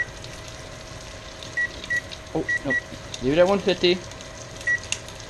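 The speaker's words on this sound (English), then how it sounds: "There went the timer." Kitchen oven timer going off while sausage and biscuits bake, several short high beeps in pairs and singles, faint against room noise, with a person talking partway through.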